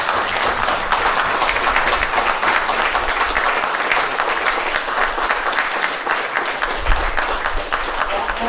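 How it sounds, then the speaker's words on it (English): An audience at a legal conference in the UK gives a sustained, even round of applause that fills the whole stretch, loud and continuous with no break. "Let us end this day, or end this evening, with a resounding round of applause,"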